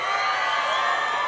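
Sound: audience applause and cheering

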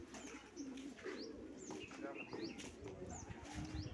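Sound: pigeons cooing

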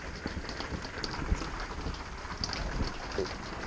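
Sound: pouring rain

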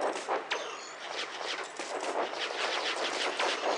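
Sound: Katyusha rocket launchers firing in the video game Hills of Steel

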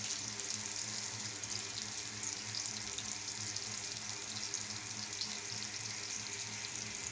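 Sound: katla fish frying

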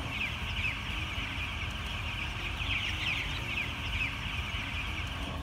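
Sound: chickens clucking inside a poultry chicken house

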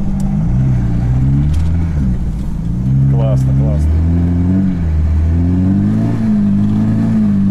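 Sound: drift car engine revving

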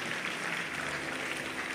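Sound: congregation clapping at a church service

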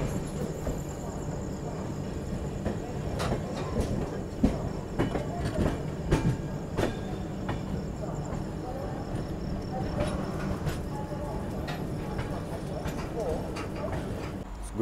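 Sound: Vaishali Express train running

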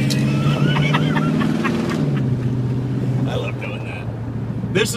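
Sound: 1974 Dodge Monaco driving

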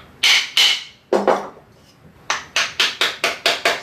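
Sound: hammer tapping the wedge and iron of a Chinese hand plane

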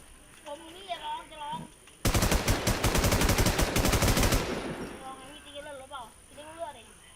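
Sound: gunfire in the video game WarZ

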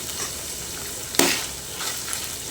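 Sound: goat kidney and liver frying with garam masala paste, stirred

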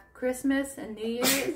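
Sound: sneeze

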